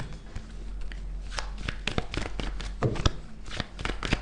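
Tarot cards from a Major Arcana deck are shuffled and drawn, giving close, crisp riffles and soft slaps of card stock over a faint steady hum.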